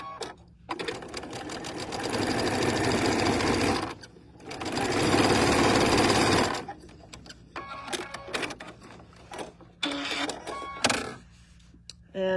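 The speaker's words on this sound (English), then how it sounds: "I'm going to sew this last little 4 patch together." A sewing machine stitches a quilt four-patch block in two long, steady runs, followed by shorter stop-start bursts of rapid mechanical clatter, close and prominent.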